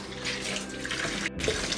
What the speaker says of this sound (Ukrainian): Промиємо водою